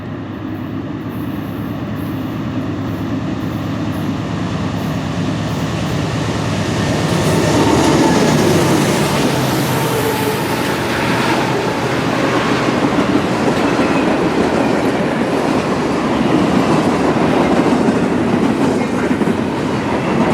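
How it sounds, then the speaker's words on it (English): Norfolk Southern freight train 30T rolls south beneath a CSX line in upstate New York, a loud continuous rumble and wheel clatter that swells midway and holds steady. "NS train 30T was making its way south, passing underneath the CSX Selkirk subdivision heading for Binghamton"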